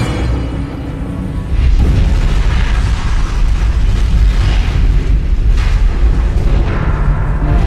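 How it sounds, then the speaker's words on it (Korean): A meteoroid blowing apart in the atmosphere: a continuous, deep, roaring rumble that swells louder after a second and stays heavy and forceful, with no voices. "마침내 유성체는 폭발하고 만다."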